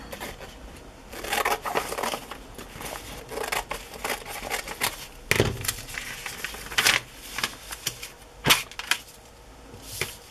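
Scissors cutting the flap off a glue book cover, heard as close crisp snips and crinkling paper at an uneven pace, with a few sharper snaps, no talking.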